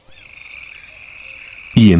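A poison dart frog calls in the Amazon rainforest, giving a steady high buzzing trill that holds nearly unbroken for about a second and a half before a loud, sudden noise cuts in.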